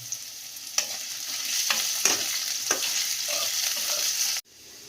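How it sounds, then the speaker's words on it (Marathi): Potatoes fry in oil in a pan, giving a continuous sizzle, while a spatula stirs them with several scraping strokes. The sound cuts off abruptly near the end. "तर मस्त बटाटे भाजले गेलेत, तळले गेलेले आहेत."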